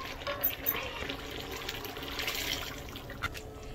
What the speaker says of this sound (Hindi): चनों के अंदर जो पानी हो उसे भी आपको इसी के अंदर डाल देना है।